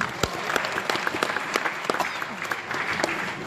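An audience applauding at a blues concert, dense continuous clapping with distinct sharp individual claps standing out, a few voices mixed in the crowd noise.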